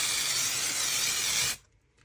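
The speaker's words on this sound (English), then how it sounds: "Before I start pouring, I'm going to spray my mould with silicone release." Silicone release sprayed from an aerosol can onto a resin mould, one loud, close, continuous hiss lasting about a second and a half before cutting off sharply.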